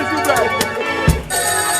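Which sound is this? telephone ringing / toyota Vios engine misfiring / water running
telephone ringing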